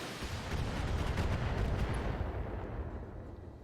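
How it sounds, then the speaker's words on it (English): A mech's ammunition cooking off in the Battletech video game, a loud, dense rumbling explosion with crackling bursts that swells and then slowly fades over several seconds, with no voices. "Oh, the Locust fell over. That's a shame. Ammo explosion."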